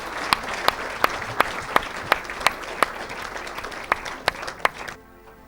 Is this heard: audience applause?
yes